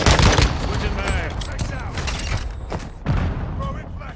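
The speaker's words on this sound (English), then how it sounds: "Taking effective fire." Gunfire crackles in Call of Duty: Modern Warfare Remastered, a dense fusillade of close shots and booms amid game radio chatter and voices speaking throughout.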